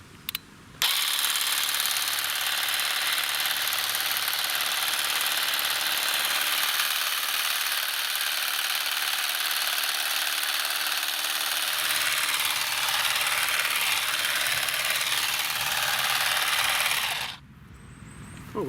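Powered grass shears trimming lawn grass with clover, a steady high-pitched motor whine running alone for about sixteen seconds, then cutting off abruptly near the end.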